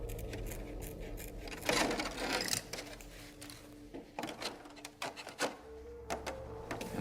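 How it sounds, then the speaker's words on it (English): Plastic RC car body shell for an XRAY X12 being cut out along marker lines, with irregular snips and crisp scissor clicks at close range, some louder bursts, over steady low handling noise and no talk. "Cut out the shape that we marked with a marker."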